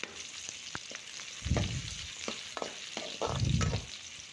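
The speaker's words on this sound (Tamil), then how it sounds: "நல்லா வதக்கி விடுங்க." Chopped onions fry in hot oil for an egg masala, stirred with a spoon in a pan: a steady sizzle with two louder bursts as the pieces are turned, and small scraping clicks between them.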